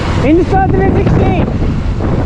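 Strong sea wind buffeting the microphone on a coastal road beside the Arabian Sea, a loud rushing roar with someone speaking over it.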